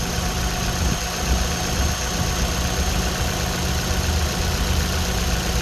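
An Opel Zafira B minivan engine idling steadily at close range, an even low rumble with a faint rhythmic knock and no voices.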